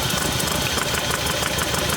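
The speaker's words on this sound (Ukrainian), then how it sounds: "Міняється робота двигуна, міняється, третій циліндр" A Hyundai Santa Fe diesel engine idles roughly while misfiring, with its injectors being disconnected one at a time; a dense, steady knocking clatter runs close and loud for the whole two seconds.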